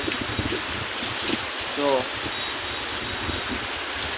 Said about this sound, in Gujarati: વરસાદ બહાટી બોલાવે છે।